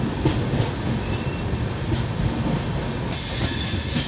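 The Santragachi AC SF Express runs on rails, heard from inside as a loud, continuous rumble with rhythmic wheel clatter and a brighter hiss toward the end, with no talking.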